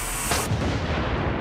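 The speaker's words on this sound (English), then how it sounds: "We've only got one more blank shell, so it's now or never." Blank shell fired from the gun of a restored World War II military vehicle: a single loud, deep cannon boom followed by a long rumbling, noisy decay outdoors, with no voices.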